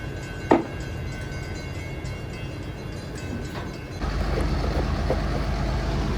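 A low, steady rumble swells abruptly and continues loudly, like a train rolling past nearby, with a sharp knock early on.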